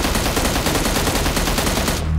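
Rapid, continuous gunfire from a Mini 14 rifle in the mobile game PUBG Mobile, loud and close, the dense stream of shots cutting off abruptly just before the end, with no talking.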